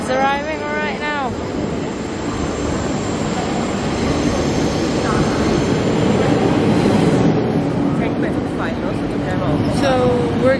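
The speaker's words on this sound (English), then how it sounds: "our train is arriving right now." A train rumbles in close and loud, with screeching, squealing brakes and rolling wheel noise as it pulls into the station.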